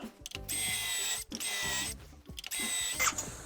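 A power drill whirs in three sustained bursts while drilling into a ski through a binding jig, high-pitched and steady, with brief pauses between each run.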